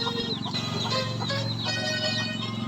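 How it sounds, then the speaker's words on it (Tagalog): Native chickens clucking and chirping nearby on a farm over a steady low hum, with overlapping short calls throughout. "Ito nga po pala, alaga ko manok."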